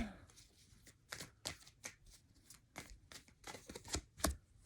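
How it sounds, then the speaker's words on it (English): Tarot cards shuffled and pulled from a deck, a run of crisp riffling flicks and slaps at an uneven rhythm, close and fairly quiet, with no talking over them. "So let's go ahead and get all our cards pulled out."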